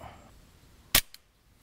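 A single sharp, loud shot from a Glock 17 Gen5 CO2 gas blowback airsoft pistol firing a 0.2 g BB, with a faint short rattle of the slide just after and near silence around it.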